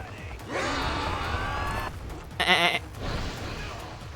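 Sheep in the video game Like a Dragon bleat in a short burst of a few wavering calls over steady game background sound, with no talk in between.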